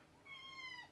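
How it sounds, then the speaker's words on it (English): A pet cat lets out a single, fairly quiet rising-and-falling meow, close by and heard alone. "My cat just woke up and she's not usually awake right now."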